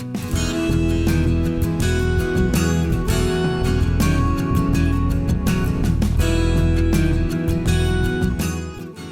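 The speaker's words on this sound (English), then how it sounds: "the Taylor 355 12-string acoustic guitar, known for their bright and crisp tone" Bright, shimmering chords strummed on a Taylor 355 12-string acoustic guitar in a steady rhythm, full and ringing, with no voices.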